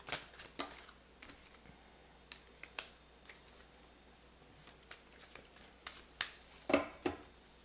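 Tarot cards shuffled and laid out for a reading: a run of quiet, scattered flicks and soft papery taps, close and faint, with no talking.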